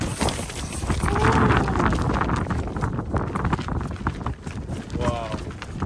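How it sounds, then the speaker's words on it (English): Wind buffeting on Helvellyn mountain at dawn, gusty roar and rumble against a microphone, steady and fairly loud, with a person talking through it. "As you can hear, it's quite windy out there"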